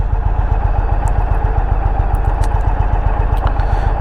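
A 2021 Indian Roadmaster motorcycle engine chugs steadily in a rapid, even pulse, loud and close, with a few faint clicks on top.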